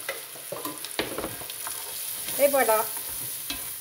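Flour cooking in a pan for a meurette sauce, stirred with scraping strokes over a low sizzle, and a voice speaks briefly.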